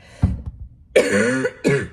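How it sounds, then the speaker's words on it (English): Two harsh, throaty coughs close to the mic, separated by a short pause, after some faint low rustling at the start. "I am so sorry, y'all, that you have to listen to my cough"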